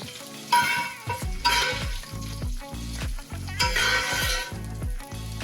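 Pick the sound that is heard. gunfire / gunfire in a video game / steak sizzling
steak sizzling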